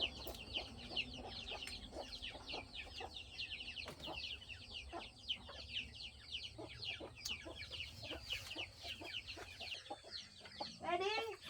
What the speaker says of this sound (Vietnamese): Con gà kêu cục cục cho đói lắm rồi ấy.